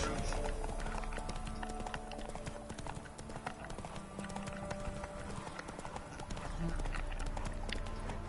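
Hooves of the horse Roach clip-clop steadily in The Witcher 3, a rapid rhythmic trot heard close, with game ambience and someone talking over it at times.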